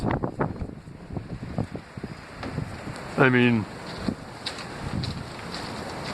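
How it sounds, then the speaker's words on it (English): Steady wind noise buffets the microphone outdoors while a person speaks briefly, with a short voiced sound partway through. "look at how windy it is."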